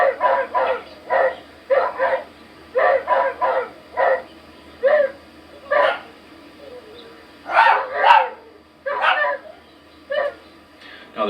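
A dog behind a fence barks repeatedly in loud, close bursts, mostly in pairs and short runs with brief pauses between them and a few higher yips among them.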